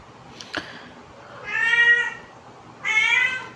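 A pet cat meows twice during a livestream, each meow long and clear, separated by a pause, with a short knock before them and quiet room noise underneath.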